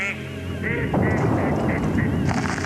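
Ducks honk and quack nearby in a short loud burst of calls, several overlapping, with outdoor background noise.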